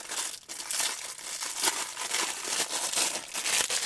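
Continuous crinkling and rustling of plastic packaging from boxed Matchbox toy cars, close and fairly steady, with brief crunchy bursts throughout and no voices.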